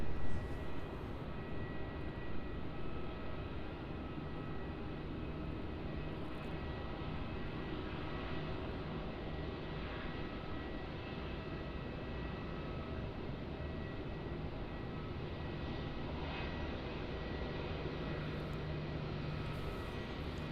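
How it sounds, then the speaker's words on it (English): Qantas Airbus A330 jet taxiing at Melbourne Airport, a steady, loud, broadband engine roar and whine that holds for about twenty seconds without voices. "So taxiing up for a runway 34 departure, we have our next heavy, which is the Qantas A330."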